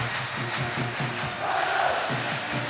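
Rugby league crowd on stadium terraces at a Leeds Rhinos versus Bradford Bulls match, a distant, sustained roar of voices and cheering with a faint rhythmic chant underneath.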